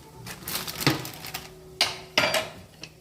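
Semolina and gram flour being stirred and roasted in a pan for halva, with a few sharp scrapes and clinks of a spoon against the pan amid a faint dry rustle, close and otherwise quiet.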